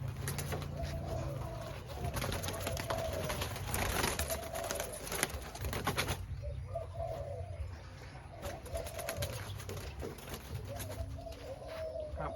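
Hens being chased off their nests at a poultry coop keep up steady clucking and cooing, with scattered noisy bursts of commotion throughout and a short quieter patch partway through.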